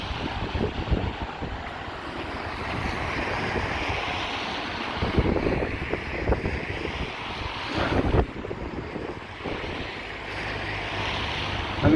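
Strong wind buffets the seafront at Blackpool's North Promenade in wintry sleet, roaring steadily against the microphone with waves rolling in from the sea, rising in gusts around the middle and end.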